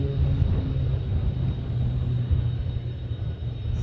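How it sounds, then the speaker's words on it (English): Private jet taxiing at Honolulu airport, a steady low engine rumble heard from a distance with no talk over it. "Sounds like a private jet, but we'll find out here in a minute as it comes around the corner."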